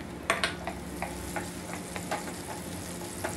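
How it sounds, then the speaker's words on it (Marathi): Finely chopped onion fries in oil in a pan for a mutton and dill-greens dish, with a soft steady sizzle broken by several light stirring scrapes and taps. "आता हा कांद्याचा कच्चेपणा जाईपर्यंत कांदा चांगला भाजून घ्यायचा आहे आपल्याला."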